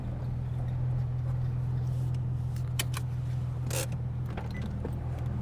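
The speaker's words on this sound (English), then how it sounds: "Something suspension-wise squeaking." Squeaky suspension on a car called Scarlet after a CSC delete, heard while driving as a few sharp creaks over a steady loud low engine and road drone.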